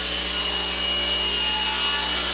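Table saw ripping a wooden lamp base, a loud continuous whine of the blade cutting through wood, held steady for a couple of seconds before cutting off abruptly at the end.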